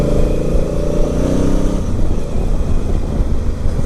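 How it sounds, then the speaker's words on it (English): A 2017 Honda Africa Twin on a daily commute, its torquey engine running with a steady, throaty rumble, close and continuous, with wind rush layered over the drone. "This has got a really torquey engine. It pulls in any revs, any gear."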